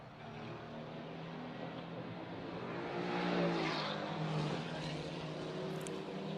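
A Mercedes GT race car at the Macau Grand Prix GT Cup, its engine roar building as it approaches and passes, then staying loud and continuous.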